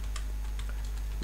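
Quick, light clicks of a computer keyboard being typed on, a short burst of close keystrokes over a steady low electrical hum.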